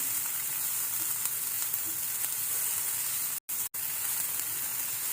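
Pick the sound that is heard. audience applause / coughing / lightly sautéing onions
lightly sautéing onions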